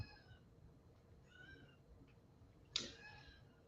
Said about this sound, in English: we can hear a meow